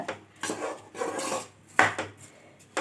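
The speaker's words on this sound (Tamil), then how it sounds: "இப்போது அரிசி போட்டு அந்த எண்ணெயில் லைட்டாக ஒரு தடவை அப்படி கலரி விட்டுலாங்க" Rice grains being stirred in hot oil in a metal pan, heard as several scraping, rasping strokes of a spoon against the pan with brief clinks, fairly close, no talking.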